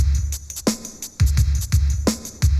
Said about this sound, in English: from this record I used the snare out of this beat